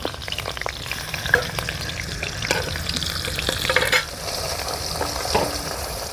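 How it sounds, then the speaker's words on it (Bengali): A fish head fries in hot mustard oil, a continuous crackling sizzle with occasional sharper pops and light stirring, close up and with no voices. "মাছের মাথাটা ভাজা হয়ে গেছে"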